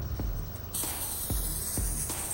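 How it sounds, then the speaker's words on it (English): Spray paint hissing from an aerosol can onto a car's interior dashboard vent, a steady close hiss that swells louder partway through and carries on in an even stream, with faint knocks underneath. "spraying left to right and then right to left"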